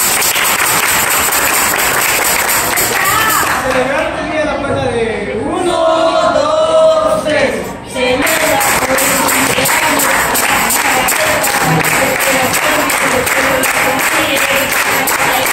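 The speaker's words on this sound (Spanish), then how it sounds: "Fuerte aplauso," Applause from a group at a family birthday celebration around cake time, dense and continuous for about fifteen seconds, with voices talking and calling out over the clapping.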